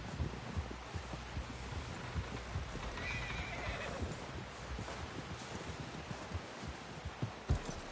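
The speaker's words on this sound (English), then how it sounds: "Someone help John down off this horse" In the Red Dead Redemption II video game, a horse whinnies midway through a steady run of clip-clopping hooves, the footfalls close and continuous from start to finish.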